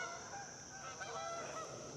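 A flock of geese flies over a small creek where someone is carp fishing from a kayak, and their overlapping honks sound faint to moderate against a constant rushing background hiss.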